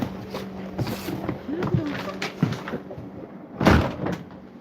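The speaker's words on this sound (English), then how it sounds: "Shut the door." A door is pushed shut at home, with a few knocks and shuffles leading to a solid thud near the end, close and moderately loud, amid faint room noise.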